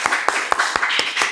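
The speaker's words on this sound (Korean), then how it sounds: "우리 다시 한번 격려 환영의 박수" A small church congregation claps in welcome during a Sunday worship service in New Zealand, six distinct claps in a slow, steady rhythm over a faint room hum, fairly close and moderately loud.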